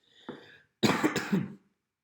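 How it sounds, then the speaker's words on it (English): A short throat clear followed by a harsh, rasping cough, close and fairly loud, in an otherwise quiet room. "bad timing for a cough"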